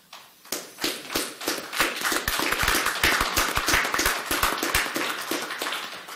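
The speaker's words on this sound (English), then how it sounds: "But I think we're applauding your service, not that you're leaving." Applause breaks out at a county council meeting as members honor a departing colleague's service, a dense burst of hands clapping that builds quickly and holds steady for several seconds, with no talking over it.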